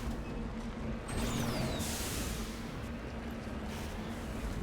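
The Mako all-terrain vehicle from the video game Mass Effect drives with a continuous low engine rumble and a brief rising mechanical whine partway through, steady and fairly loud.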